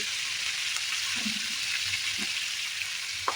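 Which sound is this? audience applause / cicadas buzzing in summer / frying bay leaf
frying bay leaf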